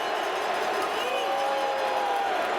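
Stadium crowd at a CFL football game between Winnipeg and Saskatchewan, a dense steady roar of massed voices with a broadcaster talking over it.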